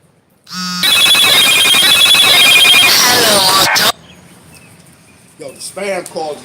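A phone ringtone sounds loud and close for about three seconds, a steady melodic ring that cuts off abruptly, followed by someone speaking.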